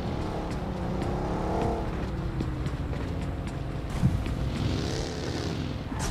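A video game vehicle engine hums steadily throughout, with its pitch rising and falling as it revs, plus a brief knock partway through.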